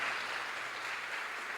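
Applause from a church congregation during a Sunday morning service, a steady, fairly quiet wash of many hands clapping that runs evenly throughout without any voices on top.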